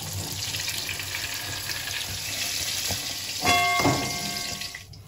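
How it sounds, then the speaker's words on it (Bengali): Flat beans frying lightly in hot oil for a Bengali shukto, a steady close sizzle with a burst of louder crackling and stirring near the end. "এবার আমি সিমগুলো হালকা করে ভেজে নেব"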